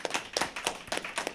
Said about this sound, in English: Please give a round of applause to the...